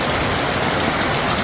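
Heavy rain pouring down in a village, a dense, loud, unbroken wash of noise with no voices.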